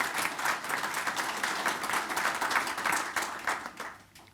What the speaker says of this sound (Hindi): आप सबकी तालियों के हक़दार हैं।